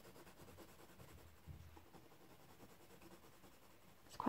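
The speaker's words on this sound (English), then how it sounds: "It's quite relaxing listening to the sound of the colouring in as well." Coloured pencils scratch and rub faintly across paper as someone colours in a butterfly or moth drawing, a quiet steady scribbling with a slightly louder stroke at the very end.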